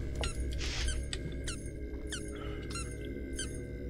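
Dog toy squeaking in a series of short, sharp squeaks, some in quick doubled bursts, over a steady low background hum, fairly close and clear.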